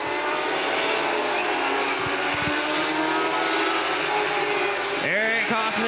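Dwarf race cars roar around Angola Motorsport Speedway in a continuous loud, dense engine wash, with a sharp engine rise as a car passes close near the end.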